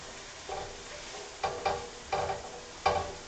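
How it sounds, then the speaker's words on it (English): Chicken sautéing in a pan, sizzling bursts coming in uneven waves as the pieces are stirred and turned, close and fairly quiet, with no talk. "We're just giving these a good saute"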